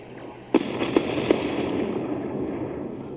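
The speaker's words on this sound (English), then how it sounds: "Look at those missiles." Missiles firing during a space fleet battle in the strategy game Endless Space 2: a sharp launch burst followed by two more quick pops, then a fading rumbling wash, loud and alone.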